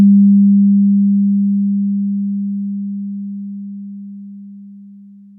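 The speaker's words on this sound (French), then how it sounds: "L'onde orange correspond à la même sinus 32 bits, cette fois exportée en 16 bits sans dithering." A pure 32-bit sine tone exported to 16 bits without dithering plays as a steady, loud, low hum that holds unchanged and slowly fades over several seconds, with nothing else heard.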